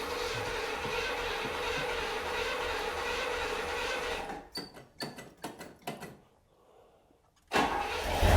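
A 1972 Pontiac Grand Prix engine cranks with a few sputtering turns, goes briefly quiet, then roars to life loudly over a steady background rumble.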